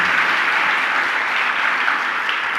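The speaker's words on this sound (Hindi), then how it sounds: "बजा लो अपने लिए ताली, जम के तो बजाओ" Steady applause from a seated audience at a Jain religious discourse, a dense, even wash of many hands clapping close by for a few seconds with no talking over it.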